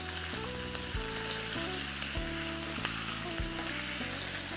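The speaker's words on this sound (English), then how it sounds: "There's a fair bit of sizzling and hissing going on" Chicken thighs sizzle and hiss steadily in olive oil in a frying pan, a continuous close frying crackle broken by a few louder spits as pieces are turned, with a music bed playing underneath.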